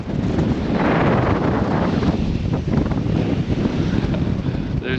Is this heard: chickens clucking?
no